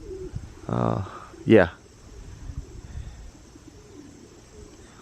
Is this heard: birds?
yes